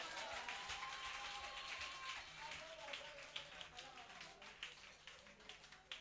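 An audience at a religious talk on work principles applauds in a diffuse wash of claps. Sharper individual claps emerge toward the end, mixed with a speaker's voice.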